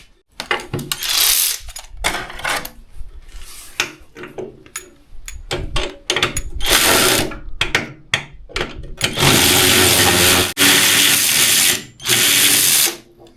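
A ratchet loosening bolts on a golf cart seat gives loud, rapid clicking bursts in short and longer runs, separated by pauses, close and dominant throughout.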